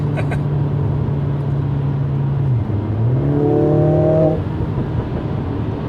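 A 2020 Mercedes-AMG CLA 45 S 4MATIC+ engine drones steadily at highway speed, then dips and surges as it accelerates hard with a rising, layered exhaust note, close and loud inside the cabin.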